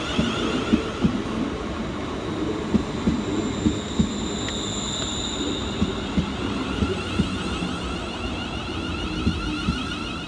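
A ScotRail class 380 electric train, unit 380-112, pulls into Paisley Gilmour Street station with a steady rumble, periodic wheel clicks over rail joints and a high whining tone, loud and close throughout.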